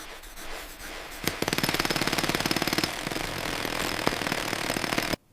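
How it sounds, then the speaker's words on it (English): A German Mk-108 30mm aircraft cannon fires a steady burst of deep, evenly spaced thumps, loud and close, with a mechanical hammering rhythm that runs for several seconds before stopping abruptly. "The Mk-108 fired relatively slowly, with a distinctive, deep thump-thump-thump sound"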